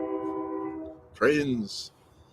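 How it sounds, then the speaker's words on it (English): A steady, multi-toned horn sounds for about a second and fades, then a person starts talking over faint background noise. "When I hear the train whistle off in the distance"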